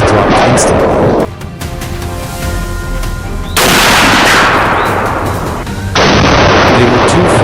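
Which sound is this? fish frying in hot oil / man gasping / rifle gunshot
rifle gunshot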